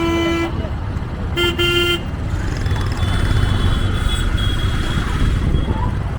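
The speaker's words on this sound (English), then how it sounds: "This is probably the most hectic traffic situation I've been in India so far on this trip." Hectic street traffic in Jodhpur, India, with a car horn tooting twice in short blasts over a dense, continuous roar of engines and road noise close by.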